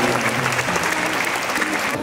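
A ceremonial crowd at a Dies Natalis anniversary ceremony at UIN Alauddin breaks into dense, sustained applause, loud and continuous throughout, with a faint voice underneath.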